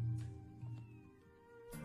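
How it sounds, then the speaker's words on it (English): In the video game Shenmue III, a cat meows a few times, soft drawn-out calls over quiet game ambience, faint and somewhat distant. "I can still hear the cat."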